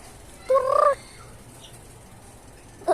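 A single short, tonal chicken call rings out once near the start, fairly close, then quiet room ambience with a faint start of another call.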